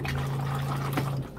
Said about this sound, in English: it's a flushing electric 12 volt toilet